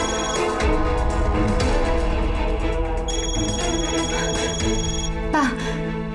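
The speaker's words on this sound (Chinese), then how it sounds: "天朗给我打电话了，我怎么办？" A mobile phone rings for an incoming call, its electronic ringtone playing steadily under music and background sound throughout.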